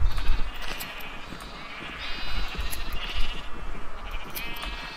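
Sheep in Minecraft bleating in repeated wavering calls close by, several in a row over a low background rumble.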